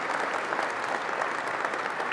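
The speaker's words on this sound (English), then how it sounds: "Give her another round of applause." An audience bursts into sustained applause at an October 2017 event, a dense, even wash of many hands clapping at once that holds steady throughout.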